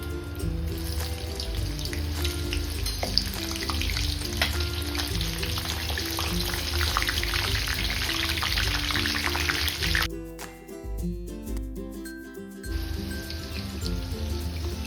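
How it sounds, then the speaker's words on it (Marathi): Green chillies frying in hot oil for vada pav, a steady loud crackling sizzle throughout, briefly shifting to a sharper spattering texture near the end. "आता ना इथे तेल अगदी मस्त गरम झालंय आपला. आपण मिरच्या फ्राय करून घेऊयात."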